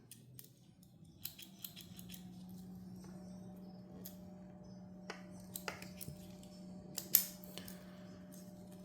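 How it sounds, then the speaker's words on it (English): Small scissors from a 91 mm custom Victorinox Swiss Army knife with acid-etched, brass-washed tools snip and click several times. The crisp metallic cuts are close and quiet over a low steady hum, and no one speaks. "This does have a pair of scissors from a 91 millimeter."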